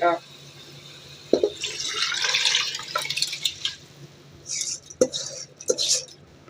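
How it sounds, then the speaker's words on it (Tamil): Soaked rice and water are poured into a pot of prawn biryani masala in a home kitchen, a rushing splash of liquid with clinks of metal utensils against the pot, while someone talks over it. "இப்போ இது கூட நம்ம கழுவி வச்ச அரிசியை தண்ணியோடு உள்ளே ஊற்றிக்கலாம்"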